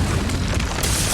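An Incendio fire spell erupts in the video game Hogwarts Legacy, a loud sustained whooshing blast of flame with a deep booming low end. It roars continuously for just over a second and brightens into a hissing flare near the end.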